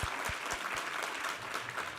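A church congregation at a Sunday worship service breaks into applause, a brief, steady wash of many hands clapping together with no voices over it.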